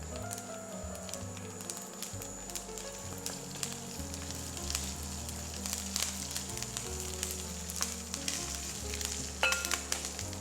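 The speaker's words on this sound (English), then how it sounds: "Let it fry a bit for the dry chilli to slightly brown, not too much" Dry chillies fry in hot oil for a coconut sambol, giving a steady close sizzle with crackling pops throughout, joined by a low background tone that shifts in pitch.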